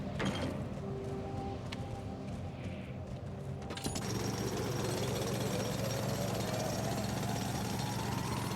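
A mining drill in the video game The Alters starts up partway through, a steady loud mechanical grinding and whirring that continues without a break over low background game ambience, with no talking.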